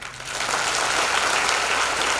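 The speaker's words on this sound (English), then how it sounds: "let's give a big round of applause to the one and only one, Major General Dilawar Singh" A big round of applause from an audience welcoming Major General Dilawar Singh, dense and even clapping from many people, loud and sustained for the whole stretch.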